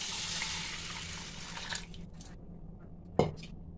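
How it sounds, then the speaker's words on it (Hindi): Water pours into a soaking dosa rice mixture, a steady splashing stream that tapers off, followed by a few scattered drips and a single sharp knock. "अब इसमें डाल देंगे पानी,"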